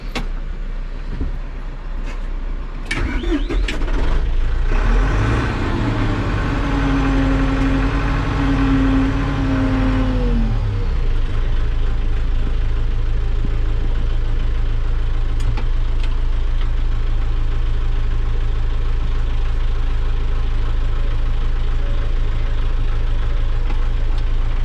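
An LS U60 tractor engine idles steadily on a farm while corn top-dressing fertilizer is loaded, with a brief revving swell early on before settling back to a constant low rumble throughout.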